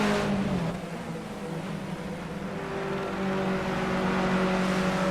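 BMW 320tc touring race car in Project CARS at Oulton Park, its engine droning steadily at close range with shifting harmonic pitch as it accelerates and holds revs through technical corners.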